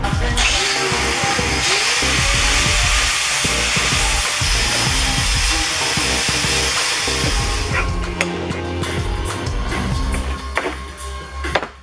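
A grinder works loudly and steadily on a metal piece for a hydraulic hand brake being fitted to a Mazda RX-7 FD3S in a home garage, with a continuous harsh whine that breaks into choppy bursts near the end.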